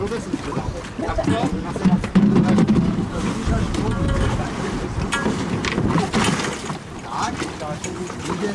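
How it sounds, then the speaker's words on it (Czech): A sailboat is launched into water on a gusty day, with steady wind buffeting the microphone, water sloshing and hull knocks throughout, and voices talking over it. "Takže loď se spouští na vodu."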